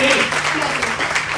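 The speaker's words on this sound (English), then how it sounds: "Give them a round of applause." Audience at a live podcast taping at Dublin VegFest claps in a short, steady burst of applause, with a voice speaking over it.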